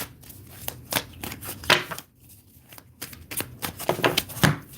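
Tarot cards are shuffled by hand for a reading, with a quick series of crisp riffling and slapping bursts, close and fairly quiet, with a short pause midway.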